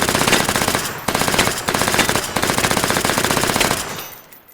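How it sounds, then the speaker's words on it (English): A P90 magazine dump in the VR shooter H3VR: a long, loud, unbroken burst of rapid automatic gunfire lasting about four seconds, briefly faltering twice, then ending with a fading echo. "Celebratory mag dump."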